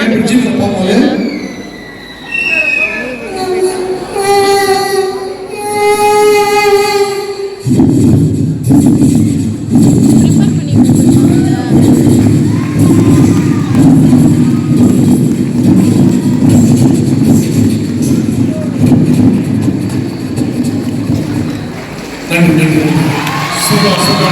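A voice imitates a train rumbling over a bridge, a steady rhythmic clatter of chugging sounds, with a crowd cheering and calling out around it during a comedy stage performance.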